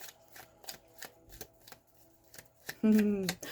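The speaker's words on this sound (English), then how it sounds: "I was just shuffling and again that landed on the bottom" Tarot cards shuffled in a steady run of crisp, evenly spaced slaps and riffles close by, ending in a brief louder tone burst.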